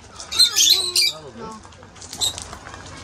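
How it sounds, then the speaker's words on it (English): Lovebirds at Dolphin Cove in Montego Bay, Jamaica, give sharp, high, repeated squawks and chirps close by, while people talk over them. "Oh, love birds."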